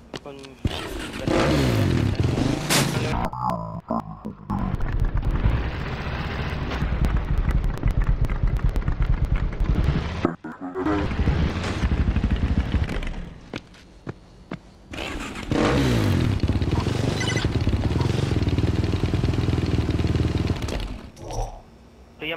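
Motorcycle engine in the Dead Rising 2 video game, revving and droning loudly through most of the stretch with brief cut-outs, mixed under game sounds and occasional talk.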